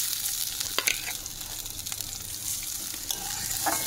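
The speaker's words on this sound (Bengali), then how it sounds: "ঘিটা গরম হয়ে গেছে, এবার আমি এর মধ্যে চালগুলো দিয়ে দিচ্ছি।" Raw rice frying in about two small spoons of hot ghee in a wok, a steady close sizzle with scattered stirring scrapes and clicks, no voices.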